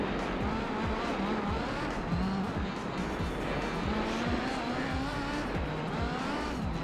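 A Peugeot races in Gran Turismo 4 with a steady engine note rising and falling through gear changes, tire noise and track ambience continuous and fairly loud throughout.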